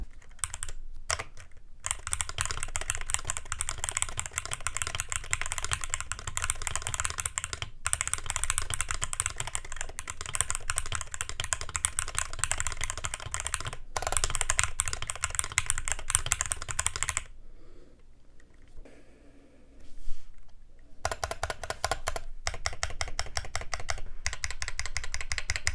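Rapid, dense clacking of typing on a MelGeek MADE68 Ultra HE keyboard with magnetic switches, close and steady throughout, with a short quieter lull before the keystrokes resume.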